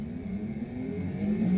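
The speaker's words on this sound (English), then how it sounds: "I'm going to have the motor turned on now so you can see how it rotates." The DC brushless traction motor of a plug-in hybrid kit spins in static operation on a car, giving a steady, moderately quiet whirring hum with tonal lines that swell slightly toward the end.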